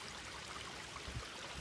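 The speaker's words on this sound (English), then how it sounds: "you can also see that we are at a creek" Creek water flows steadily out back on a rural property, a continuous low rushing wash with no breaks, moderately faint and alone.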